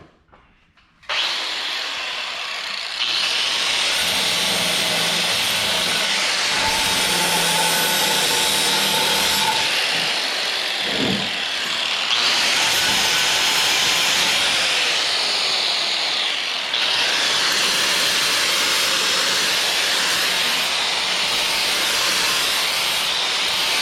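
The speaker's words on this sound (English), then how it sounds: "Couple little casting marks in there that will sand off of there." A power sander works casting marks off a rusty vise, a loud continuous hissing grind that starts abruptly and runs steadily for over twenty seconds with slight swells in intensity.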